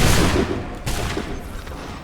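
A musket volley rings out in Assassin's Creed III: a loud crackling burst of many shots at once, a second sharp ragged blast following under a second later, then decaying rumble.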